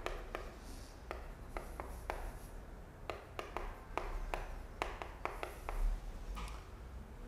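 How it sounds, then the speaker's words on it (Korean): Chalk or marker writing on a board in a lecture room, a run of quick scratchy strokes and taps at close range, with no talking. "거기다 써볼게요."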